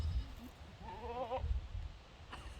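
A goat on a goat farm gives one wavering bleat at moderate distance, with low background rumble and no talking.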